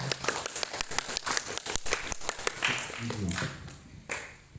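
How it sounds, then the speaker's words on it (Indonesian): A small group claps for junior high school students during a final project presentation on museum keris daggers, with brisk, close clapping for a couple of seconds before it thins out and a voice speaks. "silakan tepuk tangan dulu untuk Iksan dan Eza."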